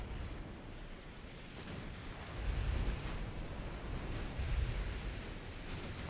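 Ocean waves wash and surge around warships in the naval battle game Ultimate Admiral: Dreadnoughts, a constant hissing roar with two heavier swells rolling through, moderately loud with no speech.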